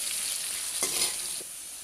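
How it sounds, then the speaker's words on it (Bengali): Cut potatoes sputter in hot oil with panch phoron and dried red chili, a brief, continuous close-up sizzle with a couple of stirring scrapes. "আলুগুলো লাল লাল করে ভাজা হয়ে গেছে"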